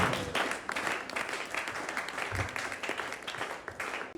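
A church congregation at a Sunday service applauds in a dense, continuous wash of clapping that fills the room for several seconds, with no clear speech over it.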